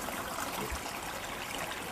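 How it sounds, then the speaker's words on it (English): Water runs steadily through a flowform water feature at a rural off-grid New Zealand property, making a soft, continuous trickling and gurgling wash without a break. "the water naturally does its pulse, its figure of 8 pulsing sort of dynamic"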